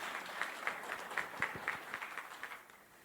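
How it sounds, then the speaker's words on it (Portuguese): A fairly small audience gives a modest round of applause before an academic talk, a quiet, somewhat distant patter of separate claps that thins out toward the end. "Então, gente, palmas"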